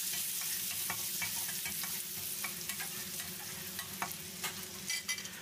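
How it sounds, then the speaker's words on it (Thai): Garlic stir-frying in hot oil in a pan gives a steady, dense sizzle throughout, with scattered scraping and stirring clicks of a utensil against the pan. It sits close and fairly loud, and no one talks. "เมื่อน้ำมันร้อนแล้วเราก็ใส่กระเทียมลงไปผัดต่อครับผัดต่อจนหอมเลยนะครับ"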